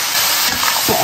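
A splash of water hits a hot wok of stir-frying braised pork head meat with garlic sprouts and bursts into a loud, close, continuous steam hiss, with no talking.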